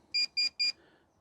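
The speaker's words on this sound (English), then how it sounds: "now I make sure to check the wood with a metal detector to see if there's anything left in the holes" A metal detector scanning a wooden board gives three quick, high electronic beeps in an even rhythm, clear and close against near silence.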